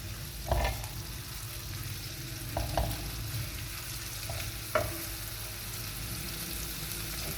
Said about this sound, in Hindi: इसको थोड़ा सा हम सौते करेंगे ताकि इसका कच्चापन जो है वो ख़त्म हो जाए